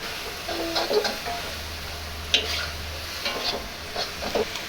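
Eggs going into a hot pan for restaurant-style pad thai, giving a soft sizzle with scattered scraping and stirring clicks over a low steady hiss.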